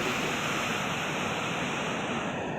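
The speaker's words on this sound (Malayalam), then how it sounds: "വെള്ളച്ചാട്ടത്തിൻ്റെ നല്ല സൗണ്ട് ഒക്കെ ഉണ്ട്" The Aruvikkuzhi waterfall pours in a dense, constant roar of rushing water, loud and close, with no let-up and no voices over it.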